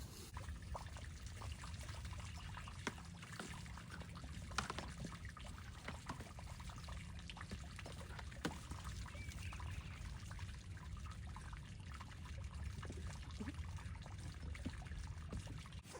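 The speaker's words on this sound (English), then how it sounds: "hear that water running" Water runs steadily near a livestock feeding area where a trough is being filled, giving a continuous soft trickling and pouring wash that holds unbroken at low level.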